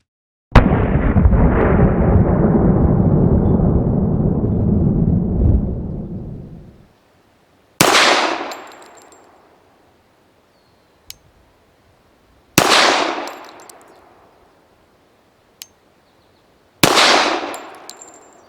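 Four loud, sharp gunshots from a custom Springfield 1911 handgun, fired outdoors with long pauses between them; each crack decays into a brief echo, and the first shot comes after a long rumbling roar.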